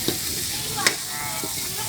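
Carrots and bottle gourd are stir-fried in a pan, giving a steady close sizzle broken by a couple of scraping stirs and a sharp utensil tap.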